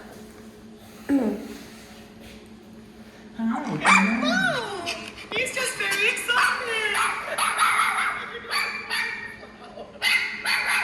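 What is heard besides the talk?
small dog barking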